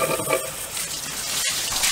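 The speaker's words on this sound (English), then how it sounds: "I'm just going to put your old faithful garden hose from Bunnings" Garden hose water gushing steadily through a Nissan D22 Navara radiator during a reverse coolant flush, a continuous bright splashing rush with a brief dropout near the middle.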